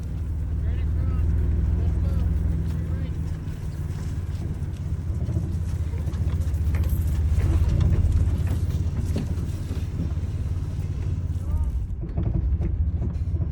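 A rough old manual five-speed vehicle engine rumbles steadily and close at low revs, with people talking over it throughout.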